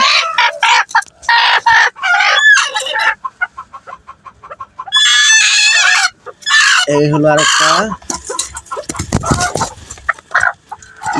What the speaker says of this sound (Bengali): দুইটা মুরগিকে নিয়ে নিব